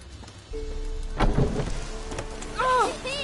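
Steady rain falls in The Witcher 3: Wild Hunt, a constant hiss with a brief voice rising near the end.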